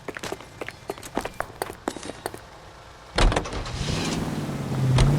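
In L.A. Noire, a car door clunks and rattles through a series of sharp mechanical clicks, then a heavy thump as it shuts, followed by the engine starting and rising into a steady drone as the vehicle pulls away.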